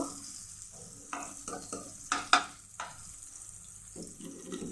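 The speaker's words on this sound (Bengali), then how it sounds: "এখানে পেঁয়াজ আর কাঁচামরিচ পালি একটু ব্রাউন কালার করে মাছগুলো দিয়ে নিব" Fish frying in a pan with browned onions and green chillies, a quiet sizzle broken by several scraping stirs and spatula clinks, heard close and alone.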